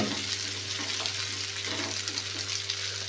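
Tomato cauliflower curry frying in a pan while being stirred, a steady hissing sizzle with soft scraping movements, close and continuous throughout with a low background hum.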